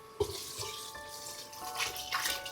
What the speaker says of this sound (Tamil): சோ 6 கப்பு தண்ணி ஊத்திருக்கோம்